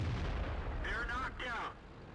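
A JT8.8 tank's cannon fires in a tank video game with a deep, rumbling boom that fills the opening, then fades as a voice speaks over the tail.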